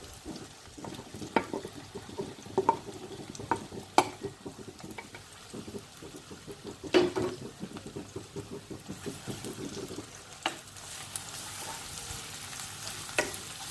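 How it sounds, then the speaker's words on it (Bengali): Onion and garlic tempering sizzling in hot oil for Bihari-style matar ghugni, a steady crackling fry with scattered sharp pops and occasional stirring clatter, close by and moderately loud. "পেঁয়াজ ফোড়ন আর রসুন ফোড়ন দিয়ে দিলাম"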